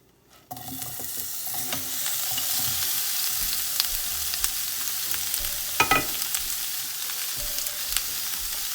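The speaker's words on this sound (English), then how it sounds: "Okay, so the onions have been fried for about 7 minutes now." Onions frying in a pan for a chutney, a steady bright sizzle that starts abruptly and holds, broken by occasional stirring scrapes and clicks, with no voices.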